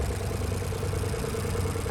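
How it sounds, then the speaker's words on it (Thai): Isuzu three-cylinder diesel engine on a 2006 Maeda HF090 tracked aerial lift running at a steady idle, a low, even rumble with light clatter, moderately close and alone. "ตัวนี้ครับเครื่องยนต์อีซูซุครับ3สูบนะครับ เครื่องดีเซล3สูบ"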